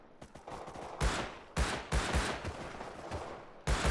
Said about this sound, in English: Oh, his MP5 has lit me round.